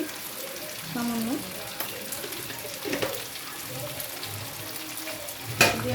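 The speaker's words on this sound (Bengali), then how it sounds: "দিয়ে আবার একটু নেড়ে নিচ্ছি।" Chicken with a little sugar frying and being stirred in a pan, a soft steady sizzle with a few utensil scrapes and a sharp clink near the end.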